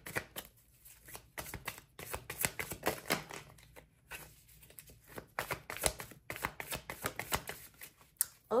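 Tarot cards being shuffled in a pick-a-card reading, close and crisp, with repeated riffling bursts and brief pauses between them.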